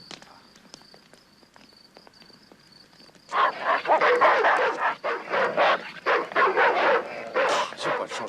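Several dogs bark in loud, overlapping bursts at close range after a quiet stretch, the barking continuing rapidly and irregularly to the end.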